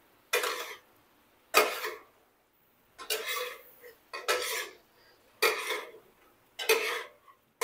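Spices being mixed into liver in a pan on a tawa: seven distinct scraping, clattering strokes of a spatula against the metal, evenly spaced with short silent gaps, close and clear.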